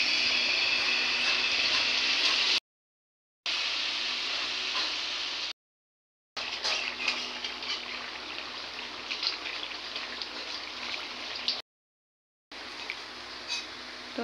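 Palm fruit fritters (taler bora) sizzle in hot oil with a steady crackling hiss, interrupted by several abrupt silent gaps, with no talking.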